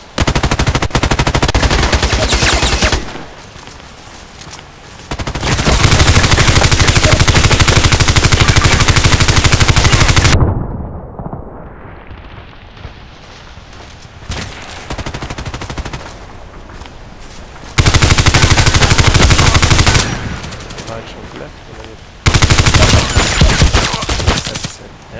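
Colt IAR machine gun in the Contract Wars video game fires in loud, sustained automatic bursts, broken by brief pauses and a short quieter stretch before the firing resumes.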